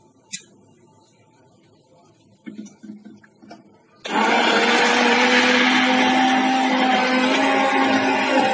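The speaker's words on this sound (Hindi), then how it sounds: "तो मैं ये हैंड ब्लेंडर से इसको पीस" A hand blender grinds masala for spinach soup, starting abruptly after a few faint knocks and then running as a loud, steady high-pitched whir that continues to the end.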